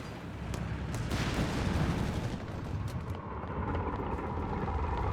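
Whizbang rocket artillery firing in Company of Heroes 3, a dense roaring barrage of rapid launches and blasts that swells and sustains over several seconds, loud and without voices.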